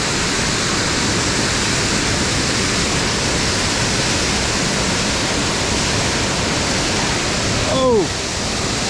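A waterfall on a Pennsylvania mountain stream roars as a constant broadband rush, loud and close, while rain falls; near the end a brief voiced exclamation rises over the water.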